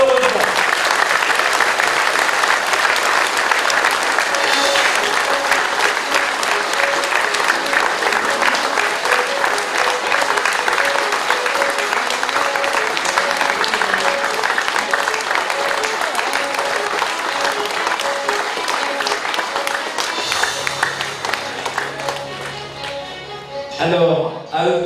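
Warm sustained applause from a village audience at a New Year's greetings ceremony in Vailly-sur-Aisne honouring two retiring blood-donation volunteers, a dense, loud wash of clapping that continues for over twenty seconds and then thins out as talk resumes.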